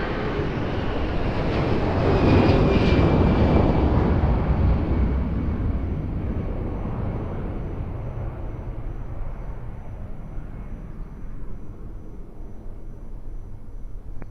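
Airliner on final approach to Lisbon Airport, a loud broad jet roar that swells near the start and then slowly fades and thins as it passes, with a faint high whine fading along with it; no talk.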